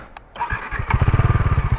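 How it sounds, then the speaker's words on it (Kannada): A Bajaj Pulsar NS400Z motorcycle engine cranks with a few clicks, catches, and settles into a loud, rhythmic idle thump, close by. "ಸೊ ಗಾಡಿ ಸ್ಟಾರ್ಟ್ ಮಾಡೋಣ"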